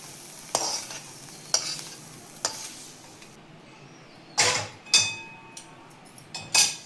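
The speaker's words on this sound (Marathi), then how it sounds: "आता आपण चाळणीमध्ये ते वाटायला घेऊया, कारण पुरण गरम गरमच वाटायचं." A metal pot presses hot puran filling through a sieve for puran poli. Sharp scraping knocks and thuds come in an uneven rhythm, close and fairly faint, with no one talking.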